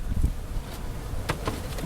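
Honeybees buzz in a steady close hum as the top comes off a hive during a windy transfer, with a few louder passes of bees near the ear.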